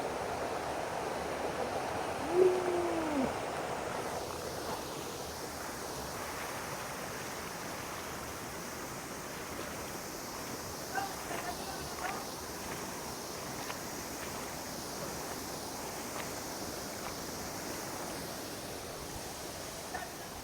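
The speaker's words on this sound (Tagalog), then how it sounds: "Ayan na yung pinaka waterfalls niya." A waterfall on a mountain near the Atago River in Japan, heard as a steady, even rush of falling water that holds through the whole stretch, moderately loud and fairly close.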